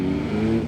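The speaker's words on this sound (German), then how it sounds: "Wem das Geballer hier am Auspuff zu viel sein sollte." A BMW M1000R Competition motorcycle rumbles close by with a loud, steady low exhaust drone and slight crackle, brief and without talking.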